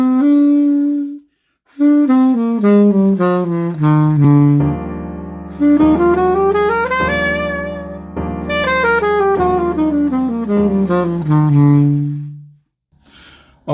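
A melodic line played over a major 7th chord uses a chromatic passing tone: a bright lead voice runs up and down in smooth stepwise notes above sustained chord tones, loud and close with brief pauses between phrases.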